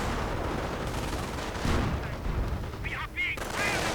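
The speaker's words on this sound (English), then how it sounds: "Mortar rounds flying in." Battle sounds in a World War II real-time strategy game: a dense, continuous rumble of gunfire and distant mortar and artillery blasts, with a few brief higher tonal calls near the end.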